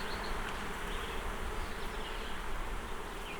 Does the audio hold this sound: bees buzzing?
yes